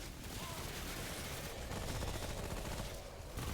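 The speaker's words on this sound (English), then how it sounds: "he summons those explosions" Rapid summoned blasts and gunfire-like bursts from a video game rattle on continuously, a dense, loud barrage with no clear gaps, without speech.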